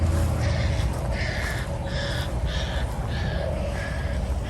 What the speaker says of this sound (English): They seem really upset, those birds.